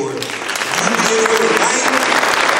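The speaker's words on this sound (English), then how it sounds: "Won't you clap your hands for" An audience at a school keynote breaks into clapping that swells and holds as a dense, steady patter, with a voice faintly over it.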